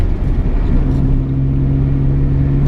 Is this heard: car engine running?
yes